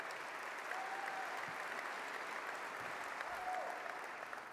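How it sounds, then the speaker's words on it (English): An audience at a Sacramento State of the City address, given by Mayor Kevin M. Johnson, applauds in a steady, sustained wash of clapping that holds at an even level throughout. "give yourselves a round of applause for all the great work you do"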